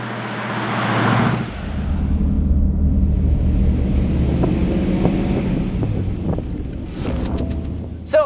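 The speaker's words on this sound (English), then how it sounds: "we also want to let you hear what these old vehicles sound like" A 1930s Ford with a manual transmission drives through modern traffic, its steady engine rumble and road noise continuous and close, with wind buffeting the microphone and a brief sharp sound at the very end.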